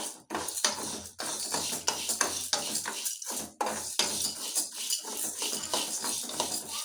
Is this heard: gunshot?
no